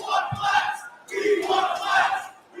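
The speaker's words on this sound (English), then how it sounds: "Are they chanting we want a glass?" A wrestling crowd at a GCW show chants in unison, a loud, rhythmic mass of voices rising and falling in two or three swells with no single speaker standing out.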